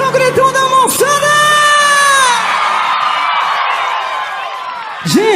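A crowd at a concert in Aracaju cheers, whoops and shouts loudly, a dense mass of voices rising and sustaining, with a singer's amplified voice heard over it at the start and end.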